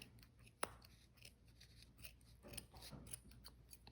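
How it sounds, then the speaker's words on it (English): Scissors snip through the yarn strings of a pom-pom on a pom-pom maker, producing a sharp single cut followed by faint rasping snips, quiet and close. "I'm gonna go on each side and cut those strings"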